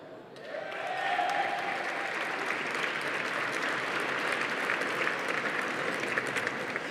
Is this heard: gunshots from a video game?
no